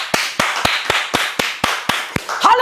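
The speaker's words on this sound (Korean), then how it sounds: "박수 주십시오" A church congregation claps in a steady, evenly spaced rhythm of about nine sharp claps, fairly close, with a brief voice at the very end.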